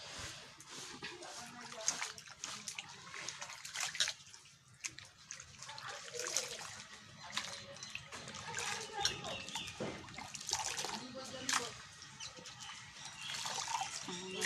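Boiled potato pieces rinsed in water for potato chips, with steady splashing and trickling under a busy, cluttered kitchen background, close and moderately loud throughout.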